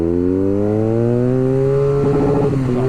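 A 2022 BMW R nineT roadster's engine revs steadily upward, loud and close, its rising note sustained for a few seconds before a rough, clattering break near the end.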